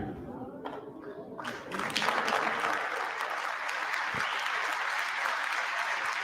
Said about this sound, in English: by voting present there and everybody clapping